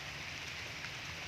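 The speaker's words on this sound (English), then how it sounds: "it is a lightning rain, and the night become heavy and heavy rain" Heavy rain falls at night in a steady, soft hiss of drops on surfaces, faint and continuous throughout the brief moment.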